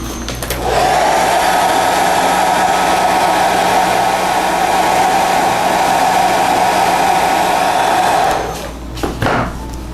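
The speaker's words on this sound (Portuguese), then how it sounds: "Eu gosto de acelerar a secagem com o secador" A handheld hair dryer blows steadily on fresh paint to speed drying, a loud continuous whirring whoosh lasting about eight seconds before switching off, followed by a couple of faint handling knocks.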